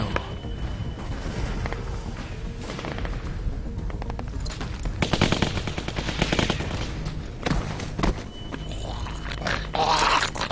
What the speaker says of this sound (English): That's assault rifles.